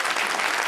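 Studio audience at a televised Eid special show breaking into applause, a short burst of dense, even clapping heard up close.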